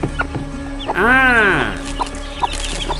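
A chicken lets out one loud, drawn-out squawk up close, with a few short clucks and low background noise around it.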